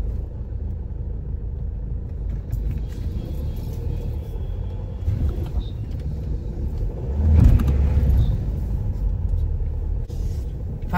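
Heavy road traffic of trucks and cars grinds along in a jam, a continuous low rumble of engines that swells louder for a few seconds as a large vehicle passes close, with a faint brake hiss.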